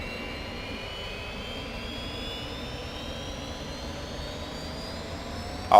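An F-86 Sabre jet from 1951 roars steadily through its takeoff run, a loud continuous turbine whine with rising pitched tones over broadband rumble, close and unbroken.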